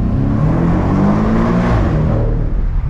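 A Porsche engine pulls hard while driving, a loud close roar that climbs steadily in pitch as it accelerates, then eases slightly near the end, with no voices over it.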